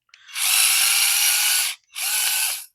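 Two loud bursts from a power tool backing screws out of an old motorcycle carburetor, a long high whirring run followed by a shorter one after a brief gap.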